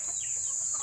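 Backyard chickens on a small farm cluck softly and steadily through the moment, over a constant high-pitched electronic whine or insect-like drone, with no talking.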